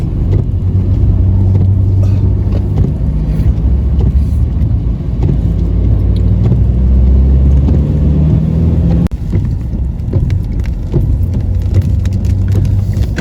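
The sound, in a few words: bus driving on road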